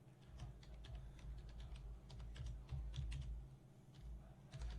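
Fingers tapping a computer keyboard, a quick irregular patter of close, quiet keystrokes running steadily throughout with no talking.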